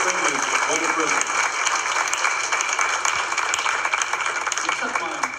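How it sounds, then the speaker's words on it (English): A crowd at a college professional development day claps warmly for a speaker, a dense, steady round of applause with a voice talking over it at the start and near the end. "Another rousing round of applause for Dr. Smith"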